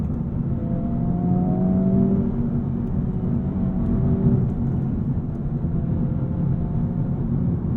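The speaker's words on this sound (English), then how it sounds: "You can hear that active valve exhaust system with a really sweet note." A Honda Civic Type R with an active valve exhaust accelerates, giving a steady, droning four-cylinder engine note with a rising tone heard from inside the car, loud and continuous, with no talking.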